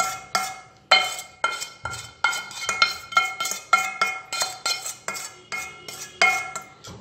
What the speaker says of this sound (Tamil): எண்ணெயை சேர்த்து நல்லா கலந்து விட்டுறணுங்க.